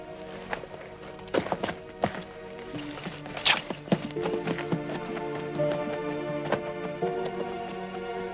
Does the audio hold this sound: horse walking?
yes